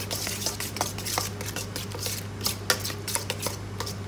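Spoon scraping and clinking against a bowl while stirring tomatoes with lemon juice, olive oil and mayonnaise sauce, a run of quick irregular close taps and swishes over a low steady hum.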